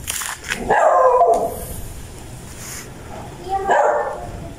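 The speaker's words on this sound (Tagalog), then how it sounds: "Oh, ingay ng aso." A dog barks near a house lot at Casa Isabel in Santo Tomas, Batangas, in two short bursts of several quick barks, fairly close, over light outdoor background noise.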